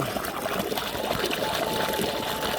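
Steady rush of water pouring and splashing continuously from a three-inch pipe fed by a 900W BLDC pump motor, fairly loud and close, with a broad hissing wash throughout.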